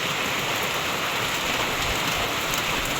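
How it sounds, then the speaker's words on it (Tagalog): Heavy rain pours down in a loud, unbroken wash of dense drumming with no pauses and no voices. "Yan po't nabuhos na naman ang ulan."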